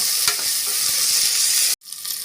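Tomato and spices sizzle loudly and steadily in a pan as they are stirred, with faint knocks of the stirring, before the sound cuts off abruptly and resumes more quietly.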